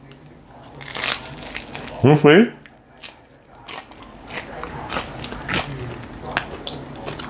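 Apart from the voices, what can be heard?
biting into crunchy pizza crust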